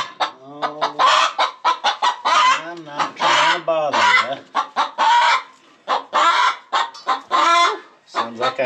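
Chickens in a backyard run cluck and squawk loudly and close by, one hen repeating rapid bursts of cackling calls with brief pauses, the calls overlapping throughout.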